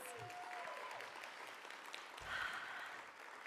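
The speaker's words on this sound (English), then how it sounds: "Let's give them a round of applause." Audience applause at a FedTalks 2016 conference thanking the day's speakers, a steady wash of clapping that is fairly soft and distant, sustained throughout with a slight swell near the end.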